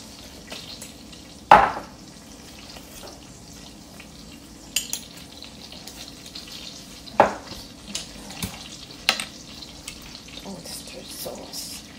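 Shrimp seasoned with salt and pepper frying in a pan; a soft, steady sizzle sits under a few sharp clanks and scrapes of utensils, with brief bits of background talk.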